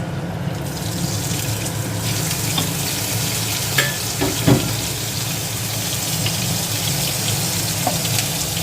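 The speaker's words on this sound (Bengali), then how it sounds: "এবার একে একে মাছগুলো আমি হালকা হাতে ভেজে নেব।" Prawns frying in hot white oil in a pan, a steady close sizzle with a few sharp pops and spatters, no voices.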